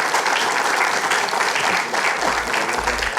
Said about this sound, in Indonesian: tepuk tangan ibu-ibu.